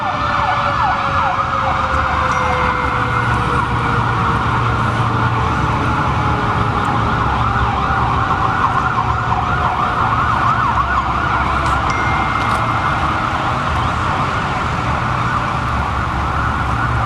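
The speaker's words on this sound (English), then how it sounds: "there's a fire truck going by" A loud emergency siren wails continuously with falling and rising tones, mixed with road traffic noise, passing close by.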